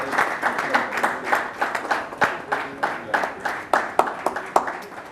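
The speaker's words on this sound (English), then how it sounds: "a big round of applause for the chair for leading us meticulously for this very interesting session" An audience at an international galvanizing conference claps for the session chair: a moderate, fairly sparse round of individual hand claps, steady and without voices.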